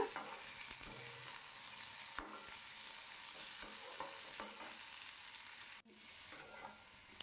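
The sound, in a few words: julienned ginger being tossed and stirred in pan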